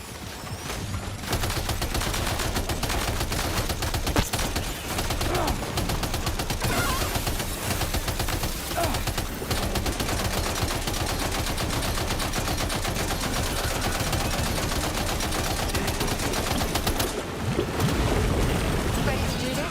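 Rapid bursts of automatic gunfire in the video game Death Stranding 2 rattle on continuously and loudly throughout, with a dense, sustained din and voices speaking over the shooting.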